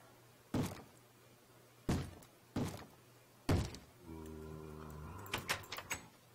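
Three firm wooden knocks on a door in Minecraft, spaced about a second apart, followed by a rattling mechanical whir and a few quick clicks, fairly close and with no talking.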